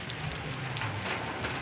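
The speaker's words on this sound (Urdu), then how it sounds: "اور تیز ہواؤں کے ساتھ تیز بارش ہو رہی تھی" Heavy rain falls steadily during a winter storm in Karachi, with strong winds. The broadband hiss is continuous and even, close and moderately loud throughout, with no voices present.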